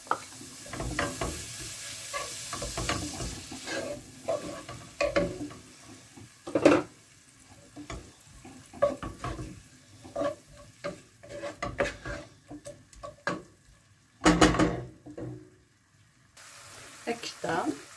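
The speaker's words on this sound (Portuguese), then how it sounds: "vamos pôr a manteiga e a cebola. E vamos deixar alourar um pouco" Onion cooking in butter in a large pot, soft sizzling beneath frequent knocks and scrapes of stirring and utensil clatter, uneven bursts of activity close by.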